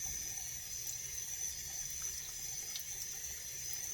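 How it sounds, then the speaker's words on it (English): Pumpkin chunks rinsed under a running kitchen tap, a constant, fairly loud stream of water with faint splashes and no voices. "Rinse them and throw them in a pot"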